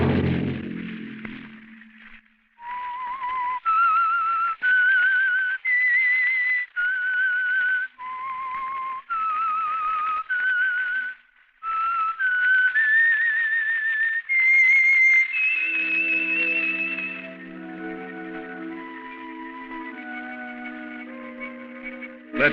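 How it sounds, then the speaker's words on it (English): A lone whistler carries the theme tune of the radio mystery drama The Whistler in a 1951 broadcast, clear sustained notes in a slow phrased melody with short gaps, ending as an orchestra comes in beneath. "Let that whistle be your signal"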